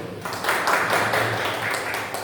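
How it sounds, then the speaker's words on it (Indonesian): Classmates in a school classroom clap after a group presentation on plant growth, a short burst of close, scattered hand claps with no talking. "Tepuk tangan dulu."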